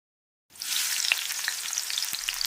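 Onions frying in a pan for an Eid beef curry, a steady loud sizzle that starts abruptly and continues with small crackles and pops, no voices.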